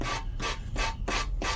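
A foam sanding block rubs back and forth along wooden edges in five even, close rasping strokes, with no talk.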